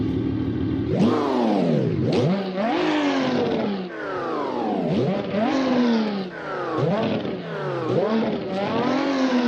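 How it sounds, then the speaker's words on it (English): A modified sport wagon's engine revs up from about 800 RPM again and again in a steady cycle, pitch climbing and falling with each loud, close burst. "revving it up, it's not really that good"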